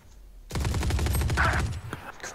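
Rapid gunfire bursts from the shooter game Valorant erupt loudly and continuously after a brief quiet lead-in, with dense repeated shots layered over in-game effects.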